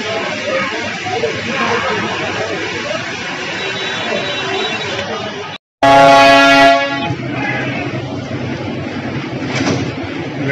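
Darjeeling toy train departing Ghum station, where one loud horn blast lasting about a second cuts in midway over steady rumbling background noise.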